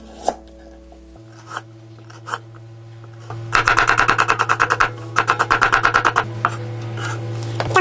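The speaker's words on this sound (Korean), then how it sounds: "당근, 샐러리, 양파는 채를 썰어서 준비를 하겠습니다" A knife julienning carrots, celery and onion on a cutting board for beef consommé: a few separate taps, then a fast, steady run of close, crisp chops with no talk.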